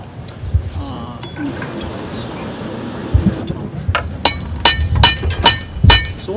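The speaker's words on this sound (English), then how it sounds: "I end up bouncing my hammer across the anvil" A blacksmith hammers on an anvil at a living history day demonstration, striking heavy blows during hot chisel work. Sharp, ringing strikes fall in a steady rhythm through the second half, while a person talks over rumbly background noise.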